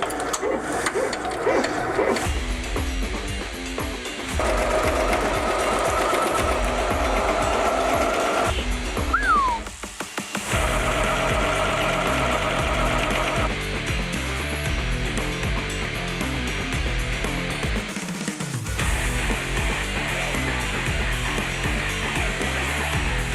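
An embroidery machine stitches a backpack with a steady rapid rhythmic chatter and whirring motor, running continuously with brief shifts in pace and a short pause partway through.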